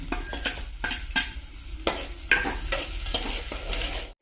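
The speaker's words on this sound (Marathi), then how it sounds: "हा कांदा इकडं भाजायला चालू केलाय" Onion frying in a pan for a mutton-gravy chicken pulao, steady close sizzle with repeated scraping stirs from a utensil throughout.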